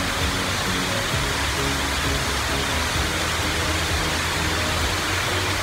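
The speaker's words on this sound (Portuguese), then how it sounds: "Fica com a cachoeira um pouco aí, pessoal." Shiraito Falls in Fujinomiya, Shizuoka, Japan, roars as a steady, dense broadband rush of falling water, loud and unbroken throughout with no voices over it.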